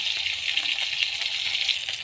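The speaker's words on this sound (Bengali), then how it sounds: "আর বাকি দুটো মাছ এই যে এখানে ভাজা হচ্ছে।" Fresh pond bata fish frying in a pan for a spicy curry, a dense close sizzle with fine crackling pops, steady and unbroken throughout.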